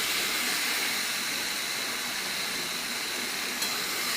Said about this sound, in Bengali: আলুটা আমি ভালো করে ভেজে নিচ্ছি।